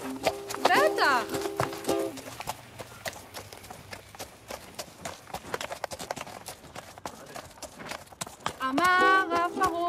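Horse hooves clip-clopping in a steady, fairly close rhythm through most of the stretch, set in a desert scene with a horse-drawn bus, with voices and music-like tones at the start and end.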